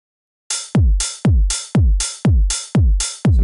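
Hi-hat drum track playing in Logic, heard as six evenly spaced, punchy hits about half a second apart, each with a heavy low-end thump that decays quickly, loud and alone.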